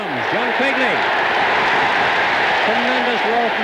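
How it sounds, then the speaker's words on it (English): Crowd roaring at a goal in the 1996 All-Ireland hurling match, Wexford v Limerick: a dense, continuous roar from a large stadium crowd, with an excited commentator talking over it throughout. "Tremendous roar from the crowd as John drives it right into the square"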